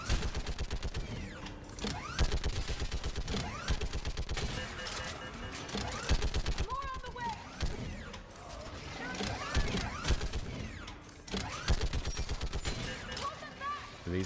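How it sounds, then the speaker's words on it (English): Mounted turret gun in the Mass Effect video game firing in steady rapid mechanical bursts, loud and close, with a ratcheting clatter and short pauses between volleys, backed by game effects. "Something about it just sounds so satisfying. A satisfying turret"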